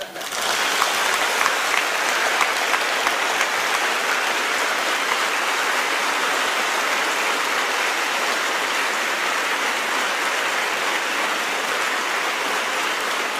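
Sustained audience applause at a public address, a dense even wash of many hands clapping for the full stretch, with faint voices beneath.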